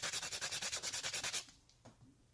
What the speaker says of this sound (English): And then I'll take a little sandpaper to it, and I'll round off the edges